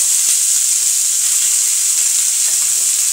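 Sliced bitter gourd with turmeric, chilli and salt frying in a pan, a loud, dense, constant hiss of oil with faint stirring taps underneath, close up and without talk.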